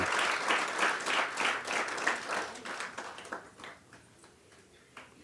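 An audience applauds warmly at a corporate identity launch event, a dense patter of many hands clapping that gradually thins and fades out over a few seconds.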